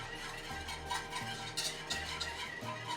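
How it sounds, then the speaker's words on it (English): Cinnamon whisked into a heated eggnog mixture in a pot, a quiet steady rhythm of scraping strokes with light clinks against the pot, close and alone without voices. "A little whisk. I'm just going to whisk that in."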